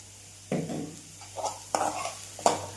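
Medium-sized onions with a pinch of salt are sautéed in coconut oil for egg curry, heard as a few distinct spatula stirs and scrapes against the pan over a soft sizzle, close and with no speech.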